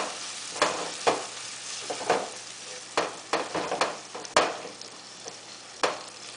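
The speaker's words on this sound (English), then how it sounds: "I stirred everything together" A spoon scrapes and knocks against a pot of eggplant stew in irregular strokes while the food bubbles and sizzles steadily underneath.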